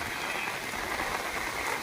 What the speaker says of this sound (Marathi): मुसळधार पाऊस झालेला आहे कालपासून सुरू असलेल्या पावसात